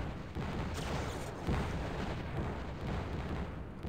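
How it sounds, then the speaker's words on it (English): Bombing attack on a Juggernaut unit in the Zero-K strategy game: a dense, steady rumble of distant explosions and artillery-like bursts rolling on without a break. "Now more attempts at bombing coming in here."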